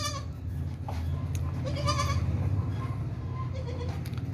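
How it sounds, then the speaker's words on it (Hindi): A goat of good breed bleats among a herd on a livestock sale, with repeated short nasal cries over a steady low background hum. "ज़बरदस्त बकरी है"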